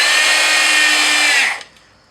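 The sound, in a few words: power drill driving 3-inch exterior screws into wood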